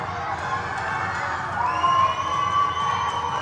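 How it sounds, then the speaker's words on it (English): A crowd at a 12U youth ice hockey game, Spartacats versus Valkyrie, cheers after a goal, with sustained shouting and whooping that swells partway through and holds at a lively level. "And Stella Costain, the crowd is up on their feet tonight for Stella."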